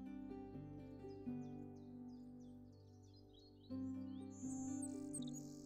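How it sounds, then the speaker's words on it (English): Savannah Sparrow call from the digital board game Wingspan: thin, high chirps and buzzy trills over a steady tonal music bed, moderately loud and alone without talk. "Savannah Sparrow."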